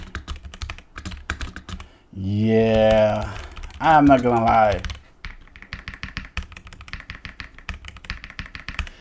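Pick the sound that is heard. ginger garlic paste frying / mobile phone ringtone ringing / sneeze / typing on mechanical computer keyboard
typing on mechanical computer keyboard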